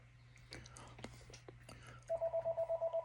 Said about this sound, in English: And that phone's ringing.